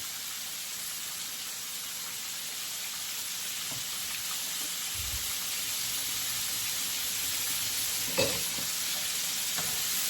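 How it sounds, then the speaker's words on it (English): Flour fries in a pan of oil for chicken and sausage gravy, a continuous loud sizzle with faint stirring scrapes and a brief clink near the end, no voices. "Put me some flour in there. So that can go ahead on and fry on up."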